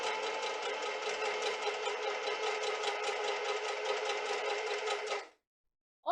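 Sewing machine stitching fabric in a home sewing setting, a steady, fast mechanical whir that runs close and unbroken for about five seconds, then stops abruptly, with no talk over it.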